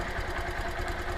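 A Honda Titan 150 motorcycle engine with a fault idles close up, a steady mid-pitched rumble with a quick, even pulsing beat.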